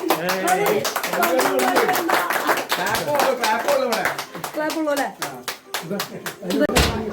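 Several people clap their hands in a fast, uneven patter of close, bright claps lasting throughout, with voices talking over the clapping.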